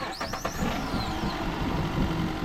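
A Jeep Renegade with a coolant leak from a broken reservoir neck, its engine briefly cranked and catching, with a high whine up top before a steady close idle rumble takes over.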